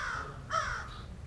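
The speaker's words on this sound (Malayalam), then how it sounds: "കാക്കയൊക്കെ വന്ന് എടുത്തിരിപ്പുണ്ട്" A crow caws near a beach, a couple of harsh calls, the middle one loudest, over faint background ambience.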